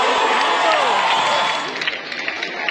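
Audience applause and cheering for the junior-group wall magazine prize winners at a school award ceremony, a dense steady clatter of many hands that eases slightly toward the end, with voices mixed in.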